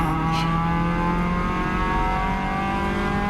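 A Caterham race car accelerates hard through a gear change during a Pacific Northwest race, its loud, close engine howl sustained with tonal whine and a brief dip as the clutch shifts.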